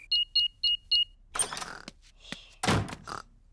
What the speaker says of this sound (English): I'll just switch the alarm off